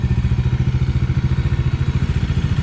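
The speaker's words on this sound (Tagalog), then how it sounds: "Ayan po yung motor natin." Bajaj Dominar 400 motorcycle idling up close, a loud, steady, fast thumping engine pulse without a break.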